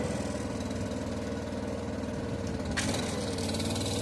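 A hydraulic machine's engine idles with a steady mid-low throbbing drone while the jib is lowered. A brief hiss of hydraulic release breaks in near the end, and no one speaks.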